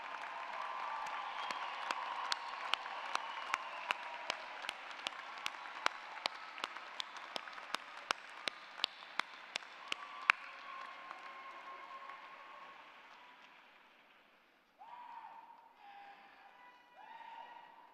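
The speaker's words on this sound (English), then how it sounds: "students, I'd like for you to give a rounding applause and recognize this great faculty" Sustained crowd applause for faculty members at a 2014 university undergraduate commencement, broad steady clapping with a few sharp louder claps on top, fading out after about ten seconds before quiet murmuring.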